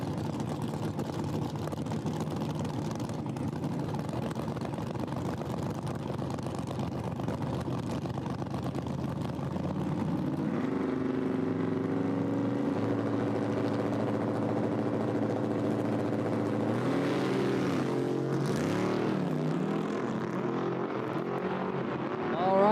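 An S10 Blazer and a Datsun line up at a no-prep drag race, engines roaring loudly and steadily, then revving and rising in pitch as they launch, with a shifting, rising whine toward the end.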